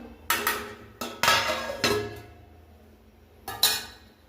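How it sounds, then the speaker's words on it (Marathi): A metal plate set over a pan of upma on the stove gives several sharp clinks and clatters, loud and close, spaced a second or so apart with a pause before the last pair. "एकदा हलवतीये, वरनं ताट झाकणार आहोत आपण"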